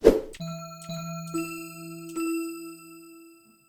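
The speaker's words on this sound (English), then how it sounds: "next we're gonna look at some bells" Bell tones auditioned one after another for a hip-hop beat: a series of clean, sustained chime-like strikes with long ringing overtones, each struck note stepping to a new pitch, fairly loud and with no voices.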